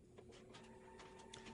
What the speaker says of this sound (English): That noise you hear is the printer